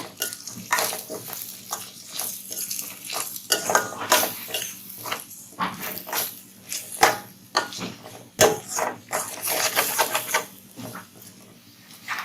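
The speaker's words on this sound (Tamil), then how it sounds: "இப்போ இது எல்லாமே நல்லா மிக்ஸ் பண்ணிவிடுங்க." A snake gourd and egg stir-fry gets mixed in a pan with irregular scraping, clacking strokes of a spatula against metal over a faint sizzle, close and fairly loud.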